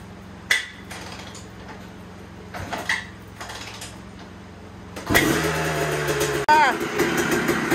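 A 2003 Honda CR250R dirt bike, gas on and choke set, takes several thumping kicks before the engine catches and runs loudly and raggedly up close, with voices heard throughout.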